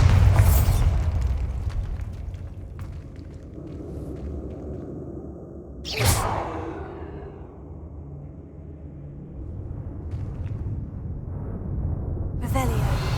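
Bombarda spell blasts in Hogwarts Legacy: three loud explosive bursts spaced several seconds apart, each with a sharp crack and rumbling tail, over a continuous low game-ambience drone.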